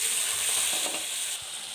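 Mustard seeds and other tempering spices crackle and sizzle in hot oil for a cluster bean stir-fry, a dense close frying hiss with a few small pops.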